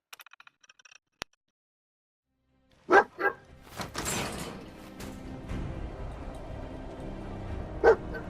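Dog barks in the video game Fallout 4, a few sharp loud yelps near the start of the sound, then one more bark near the end over a dense bed of game noise and gunfire-like crackle.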